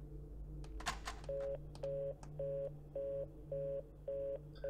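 Cell phone dialing in the horror video game The Suicide of Rachel Foster: a few button clicks, then a steady run of repeated electronic tones, about seven evenly spaced beeps with short gaps over a low background hum.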